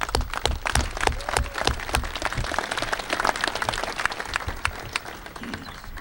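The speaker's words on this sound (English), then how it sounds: "There's a huge round of applause for all the partners," Audience applause rings out at a Louisiana motorcycle safety awareness event, a steady, dense round of clapping from a crowd that holds for about six seconds at moderate loudness.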